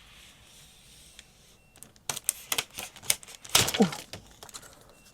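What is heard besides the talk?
plastic film being peeled off new phone packaging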